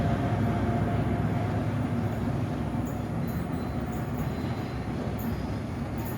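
An HST train passes at Plymouth, giving a steady loud rumble of wheels on rail throughout, with faint squeals and rattles in the upper range and no voices.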